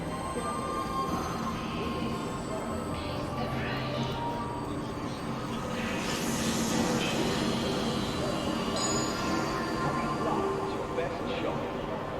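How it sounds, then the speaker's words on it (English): A tram in the space game Star Citizen rumbles and clatters steadily along at departure, with a voice talking over the continuous mechanical drone. "Tram now leaving the station."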